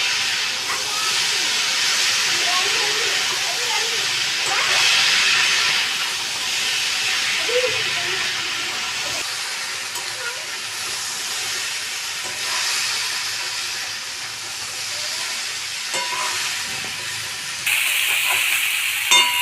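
Spices for a tangra fish curry fry in a pan with a loud, continuous hissing sizzle, occasional clinks and scrapes of stirring breaking through.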